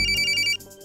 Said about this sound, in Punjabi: ਯਾਰ ਤੇਰਾ ਫੋਨ ਵੱਜੀ ਜਾਂਦਾ।